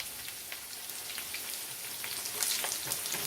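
Potatoes and onions seasoned with salt and pepper fry in a pan, a steady close crackling sizzle with fine popping that holds evenly throughout, no voices.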